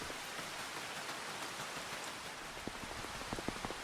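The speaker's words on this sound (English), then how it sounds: "And it's raining." Rain falling in the video game Farming Simulator 25 on a farm, a steady soft hiss with scattered droplet taps, faint and even, no talking.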